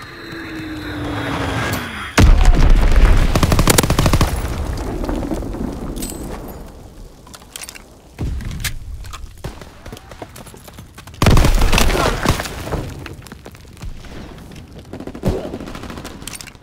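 Artillery blasts and rattling gunfire from a Call of Duty WWII battle, with two heavy booming impacts standing out amid continuous crackling shots, loud and close.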